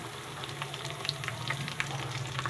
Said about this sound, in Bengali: প্রথমে দিয়ে দিলাম তেলের পরে পেঁয়াজ। এই পেঁয়াজগুলো একটু লাল লাল করে ভাজা হবে।